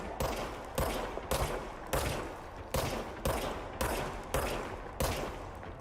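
Gunfire from the service weapon in the Control video game, about nine sharp bursts at a fairly regular pace of roughly one every two-thirds of a second, each one trailing into a brief decay.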